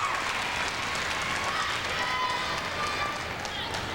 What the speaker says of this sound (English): The big contingent helping Jennifer and cheering her on